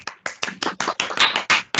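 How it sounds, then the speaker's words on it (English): A handful of online meeting attendees clap through their microphones after a career talk, about nine distinct, uneven claps in a loose rhythm, close and fairly loud, with no talking. "give Faith a round of applause"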